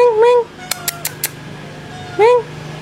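A domestic cat gives two short meows about two seconds apart, close and clear. A few faint sharp clicks fall in the quiet gap between them.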